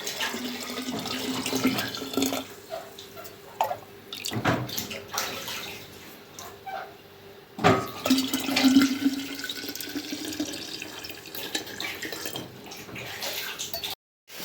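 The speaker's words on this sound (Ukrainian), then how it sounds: "Приготувався наш сік, будемо заливати в банку." Homemade tomato juice streams into a glass jar, a continuous liquid pour with a steady gurgle that rises and falls, broken by a couple of sharp clinks and a short pause before the flow resumes.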